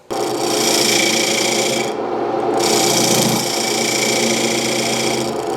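A wood lathe turns a segmented bowl, giving a steady, close rasping scrape of a tool on spinning wood. The scrape breaks off briefly partway through, then resumes for the rest of the stretch.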